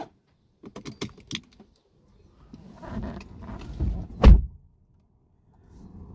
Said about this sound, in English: The steering wheel lowers, that's part of the easy entry experience